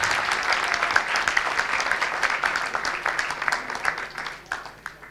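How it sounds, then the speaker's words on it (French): Audience applause for student organisers at the close of a round-table discussion on humanist management, a steady wash of many hands clapping that fades slightly toward the end. "Je vous suggère de faire des applaudissements collectifs."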